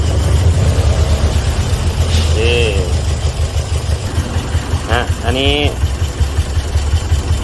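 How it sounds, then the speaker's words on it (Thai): A Toyota Vios with a 1NZ engine idles with the air conditioning on, a rough, shaky low rumble throughout, while someone speaks briefly over it. "ตอนนี้เราเปิดแอร์อยู่เครื่องยนต์ จะสั่นมากนะครับ"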